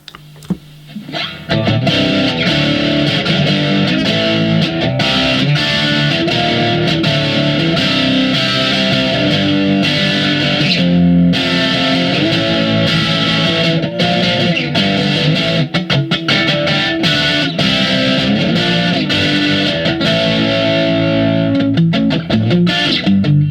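An electric guitar played through a Boss DS-1 distortion pedal, with the pedal's tone control turned down a little, gives a sustained, loud, heavily distorted riff that keeps going for about twenty seconds.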